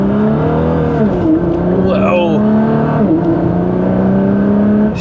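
A modified Nissan GT-R accelerates hard, its engine note climbing steadily and dropping sharply at gear shifts, loud and close throughout, with a brief exclamation from inside the car.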